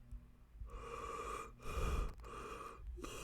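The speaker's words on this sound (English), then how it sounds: "I'm just yawning, guys." A person yawns audibly, a long drawn breath with a breathy, gasping quality, followed by a second yawn-like exhale, close to the microphone with no speech.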